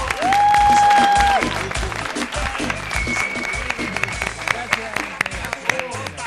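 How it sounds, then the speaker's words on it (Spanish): Studio audience applause on a Paraguayan TV interview show welcomes a guest, a lively clapping crowd with a sustained whistle-like tone at first and voices talking over it. "vamos a recibir con un fuerte aplauso a Tito"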